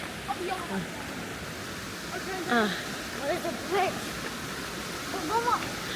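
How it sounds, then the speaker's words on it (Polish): A mountain stream near Zakopane rushes in a steady broadband wash of water, with a voice speaking briefly over it. "Słyszycie? Wzdłuż strumyka."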